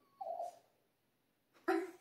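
A sleeping dog lets out two brief, soft, muffled howl-like whimpers while dreaming, close by in a quiet room.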